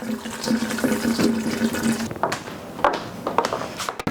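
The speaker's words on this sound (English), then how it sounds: "So absolutely, I'm going to rinse it in cold water." Lasagna noodles rinsed under a cold running kitchen tap, a steady close hiss of flowing water that shifts and splashes as the noodles are moved.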